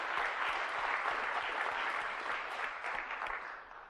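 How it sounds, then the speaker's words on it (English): An audience at a public physics lecture claps in a dense, sustained round of applause that fills the hall and fades slightly toward the end. "Let's give them a big round of applause,"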